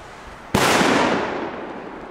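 A single extremely loud firework bang goes off very close, a sharp sudden crack followed by a long rumbling decay that fades over about a second and a half, with no voices.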